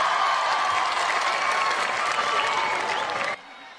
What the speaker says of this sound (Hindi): जितनी अच्छी आप ताली बजा रहे